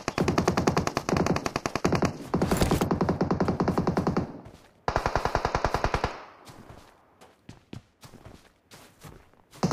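Rapid automatic gunfire in PUBG Mobile, loud bursts of fast repeated shots for several seconds, a pause, another burst, then scattered single shots and footsteps-like thuds.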